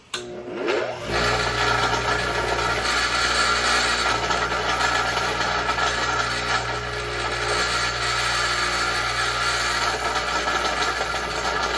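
A polishing wheel buffs a resin and wood knife handle, giving a loud, steady motorized whir with a dense grinding hiss that starts abruptly and runs unbroken throughout.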